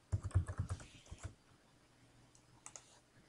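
A computer keyboard is typed on while a password is set, with a quick run of close key clicks followed by a pause and a couple of final taps.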